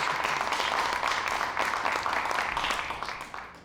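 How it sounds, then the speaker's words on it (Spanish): An audience at a talk applauds in a dense, steady wash of many hands that holds loud for about three seconds and then tapers off, with no voices over it. "Aplauso, aplauso."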